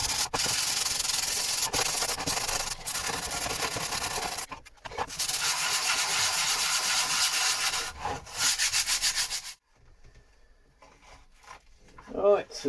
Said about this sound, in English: So we've got it sanded down, inside and out.